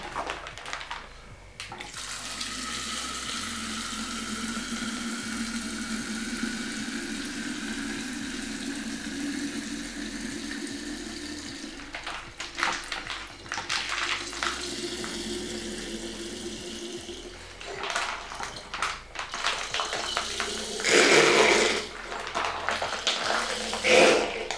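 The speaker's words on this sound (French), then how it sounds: "Après, on met directement les 2 litres de rhum." Two litres of rum are poured straight into a jar, a steady liquid trickle and gurgle that runs for most of the stretch, briefly pausing, then ending in a louder splashing burst.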